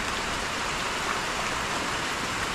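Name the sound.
rain falling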